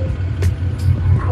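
A BMW 550i with catless downpipes and a muffler delete idles with a deep, steady rumble close by, with a couple of short hissy bursts over the low drone.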